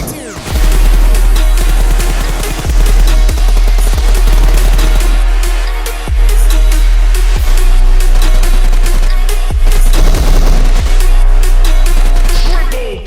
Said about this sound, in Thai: ตกใจอยู่เสียงปืนอ่ะเออตกใจบ่อยด้วย